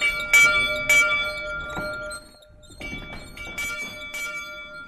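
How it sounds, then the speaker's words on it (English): A ship's bell rung aboard a pirate vessel, several sharp metallic strikes with ringing tones that linger between hits, some in close pairs, loud and near with no talking. "when you do hear that bell ring, you need to get ready to fight"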